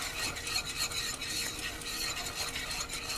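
Gravy seasoned with onion powder being stirred in a pot on a turned-down stove, a rhythmic scraping and swishing of a spoon through thick liquid, close and steady with no voices.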